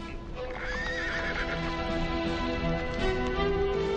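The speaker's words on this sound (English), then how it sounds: "The two horsemen are coming slowly." Two riders approach slowly on saddled horses loaded with grass; hooves clip-clop steadily and a horse whinnies, all loud and close over a sustained tonal background.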